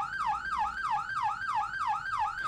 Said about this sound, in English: we're going to flip on the sirens